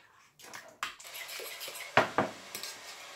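A utensil stirs a yogurt mixture in a bowl, producing a series of sharp clinks and scraping taps against the bowl, close and otherwise quiet.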